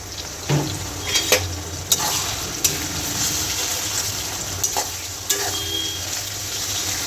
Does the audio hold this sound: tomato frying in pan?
yes